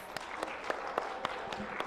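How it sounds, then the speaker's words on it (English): Scattered audience clapping at a girls' leadership summit panel in Nairobi, Kenya, a sparse, fairly quiet patter with a few distinct sharp claps spaced through the brief moment. "You can clap for us."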